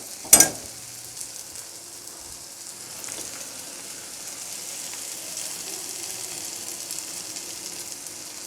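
Sea zebra mantis shrimp fry in a pan with non-veg masala, giving a steady soft sizzle and crackle after a sharp clatter at the start, close and continuous with no talking.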